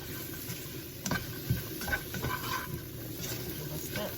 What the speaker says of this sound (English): Give a stir.